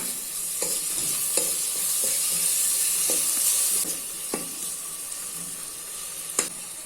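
Chopped tomatoes with turmeric and salt sizzle steadily in a pan over a medium flame, a bright constant hiss broken by sharp scrapes of a spoon stirring every second or so, close and loud with no voices.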